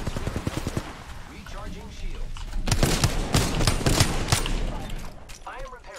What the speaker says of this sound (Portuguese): O cara tá me enchendo de tiro!